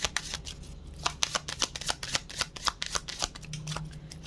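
Tarot cards being shuffled up close, a continuous run of quick papery riffles and soft snaps in an uneven rhythm, with faint talk underneath.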